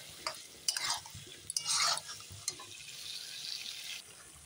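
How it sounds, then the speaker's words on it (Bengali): Chicken curry masala is stirred and scraped around a pan, with bursts of scraping and a soft sizzle under close, irregular stirring strokes. "ভালো করে নেড়ে চেড়ে নিচ্ছি।"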